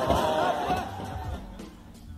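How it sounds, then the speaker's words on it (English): Rugby crowd at a Toulouse match in France, late in the game on a warm evening, a dense wash of chanting and shouting voices that holds steady and then eases slightly toward the end. "The French crowd is really pulling its weight, making a lot of noise"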